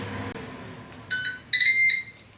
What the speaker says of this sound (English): And we've beeped, so shall we check to see how it's getting on?